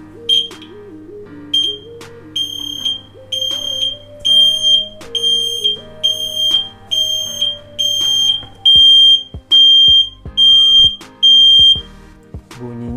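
A battery-powered electronic kite sounder gives a loud, piercing tonal buzz in repeated pulses alongside a stepping electronic melody, close and insistent, with clicks between bursts.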